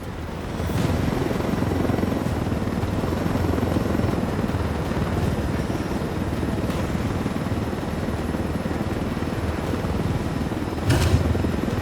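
A helicopter in the video game Ghost Recon Wildlands flies close by, its loud, steady rotor roar holding throughout with a brief surge near the end.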